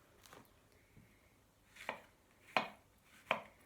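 A knife chops mushrooms on a board with a few sparse, separate thuds, getting sharper and louder toward the end, close and without talk.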